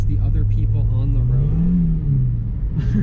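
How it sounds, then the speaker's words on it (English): A 1997 Mazda Miata's engine revs hard and climbs steadily in pitch as its wheels spin without traction in snow, a loud, continuous drone that falls back at the end. "Revs all the way up and can't even get a single bite of traction"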